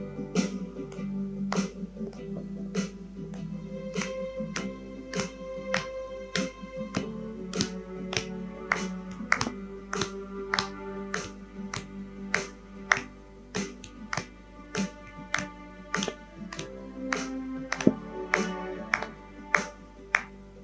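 A church congregation claps along to a hymn, sharp regular claps at a steady beat over a soft sustained musical drone, growing more prominent toward the end.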